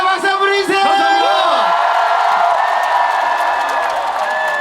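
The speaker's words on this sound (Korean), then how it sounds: "박수 한번 보내주세요" A large outdoor festival crowd at an apple festival concert roars with cheers, yells and whoops, loud and sustained, building into a dense wash of shouting and applause.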